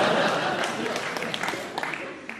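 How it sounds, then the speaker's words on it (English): A radio panel-show audience claps steadily at a moderate level, a dense wash of applause that tapers slightly toward the end. "You could have applauded louder on that one."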